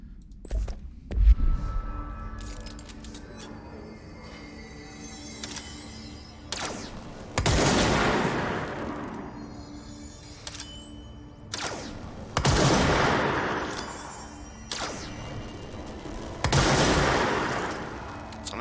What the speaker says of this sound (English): Pierce is precise with a charged shot that penetrates armor and enemies at range